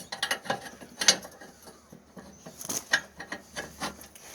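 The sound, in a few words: pin inserted into tow hitch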